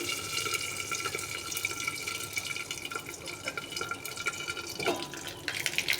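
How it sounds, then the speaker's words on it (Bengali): Water sprinkled into a hot pan holding a curry-leaf tempering gives a steady, close hiss with a light watery spatter that runs throughout and has a brief stronger burst near the end. "তো জল ছিটা ছেড়ে একটু চাপা দিই"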